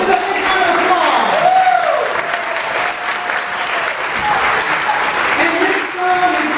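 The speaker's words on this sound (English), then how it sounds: "Give a big round of applause." Audience at a birthday celebration concert applauds in a sustained crowd roar of clapping and cheers, with some voices and stage sounds mixed in throughout.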